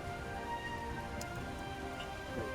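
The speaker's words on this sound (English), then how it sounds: "they have to shout to hear each other because of the rain" Steady rain falling as ambience for a tabletop roleplay scene, a soft continuous patter with faint drops throughout, quiet and even, with no voices over it.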